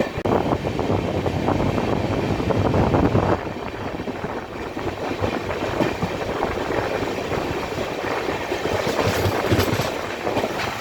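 A Janshatabdi Express train runs on rails between Ahmedabad and Ektanagar, heard from inside as a loud, continuous rumble with rhythmic clickety-clack of wheels over rail joints throughout.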